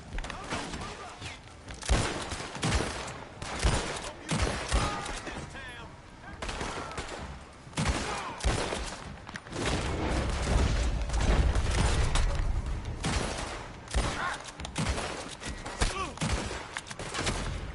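Rapid volleys of gunfire from a shootout in Red Dead Redemption 2, with a Schofield revolver in play, crack in dense bursts throughout, loud and close, mixed with game effects and a few spoken voices.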